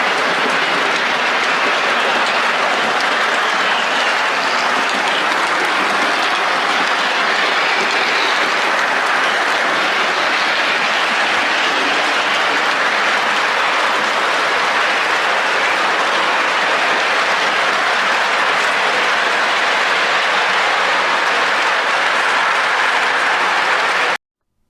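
A model railroad train runs along its track in a loud, dense, continuous rush of rolling noise that stays even and close for the whole stretch, with no talk over it.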